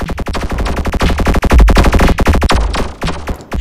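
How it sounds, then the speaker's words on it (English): Rapid machine gun fire in the twin-stick shooter Tachyon Project, a loud, continuous stream of close, evenly spaced shots that briefly slows near the end. "Machine gun"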